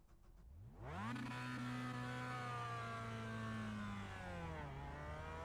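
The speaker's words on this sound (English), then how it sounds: "I really don't know how to launch this car anymore." A Mazda MX5 race car in a racing game at the Catalunya GP track launches hard, its engine jumping from idle to a loud sustained high-rev drone that holds steady, then drops slightly near the end, with no talking.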